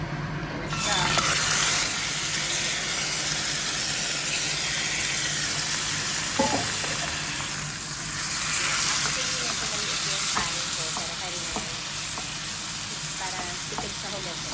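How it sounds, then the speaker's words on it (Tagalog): Meat and sauce are stirred together as they fry in a pan for a Korean food feast, making a continuous close hiss and sizzle with occasional scraping taps. "Mix. The meat. And the sauce."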